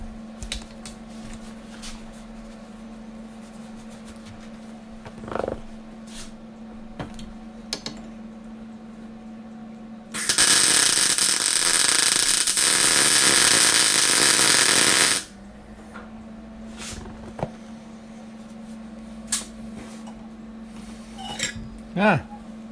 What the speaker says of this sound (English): Now let me get her welded up and then I'll bring you guys back.